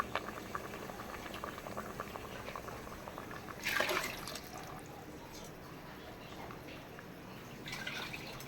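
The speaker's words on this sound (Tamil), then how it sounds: "லேசாக கொதிக்கட்டும்." Sambar with vegetables and dal gently boiling in a pot, a quiet continuous bubbling and simmer with a brief louder splash or stir partway through.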